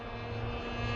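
The engine of a Hangar 9 Ultra Stick 10cc RC airplane drones steadily in flight. It holds a steady, buzzing tone at moderate distance and fairly low level, with no voices over it.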